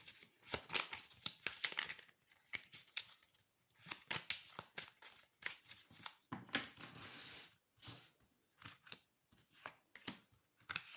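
Tarot cards being shuffled, flipped and laid out on a table one after another, soft close papery slaps, rustles and slides in irregular bursts with brief pauses, quiet and without talking.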